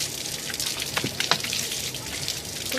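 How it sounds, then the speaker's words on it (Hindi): Water runs and splashes steadily into a household air cooler during filling, a close, continuous trickling gush with small irregular drips and splashes, no voices. "मैं कूलर भर लेती हूँ"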